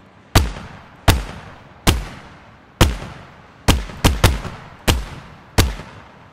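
Shotgun blasts from an Unreal Engine 5 game, nine sharp loud booms with long decaying tails at uneven intervals, each shot a slightly different variation, with no talking.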